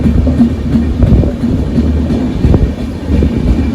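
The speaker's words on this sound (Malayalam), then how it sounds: "ഭയങ്കര ലെങ്ത്തുള്ള ട്രെയിൻ കേട്ടോ." A loud, continuous rumble of a passing train near Dharmadam station in Kerala, with rhythmic rattling of wheels on track close by.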